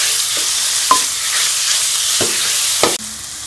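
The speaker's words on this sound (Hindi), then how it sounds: "इसको भी लहसुन के साथ और मिर्ची के साथ भून लेंगे कलर चेंज होने तक।" Chicken mince fries with garlic and green chili in a pan, a steady loud sizzle with occasional scraping stirs of a spoon, close by and without talking.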